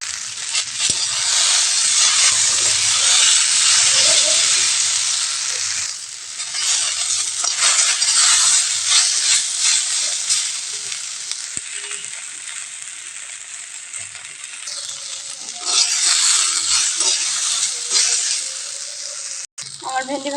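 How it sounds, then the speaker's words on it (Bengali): Okra (bhindi, ventí bhaji) fries in a pan over medium heat with turmeric, a steady broadband sizzle with scraping stir strokes rising and falling throughout, loud and close, with a brief clatter near the end. "এরপর গায়ে চুলার আঁচটা মিডিয়ামে রাখবো,"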